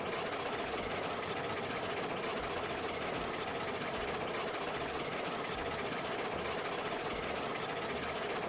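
A steam locomotive in the Railroads Online train game runs steadily on a mountain pass, a faint continuous engine rumble with a low rhythmic chugging pulse.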